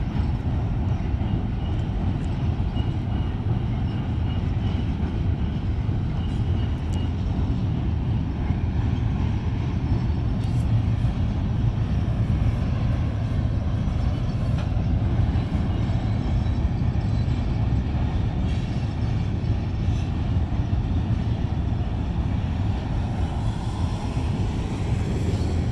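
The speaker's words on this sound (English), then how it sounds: "Oh, and there's the end of the train right there." A long Union Pacific manifest freight train crosses the Tempe Town Lake bridge with a steady, heavy low rumble and roar that holds without a break, loud and continuous with no voices.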